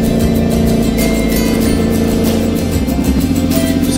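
A car drives slowly through a small-town residential neighborhood, its engine a steady, close, low drone with slight rises in pitch and no voices.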